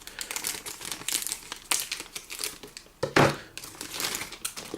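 Plastic wrapping crinkles and rustles around a model car body tub from a Monogram Shelby Cobra 427 SC kit, in close, irregular bursts of crackling with brief sharper crunches.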